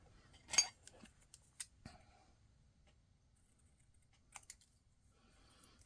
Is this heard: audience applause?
no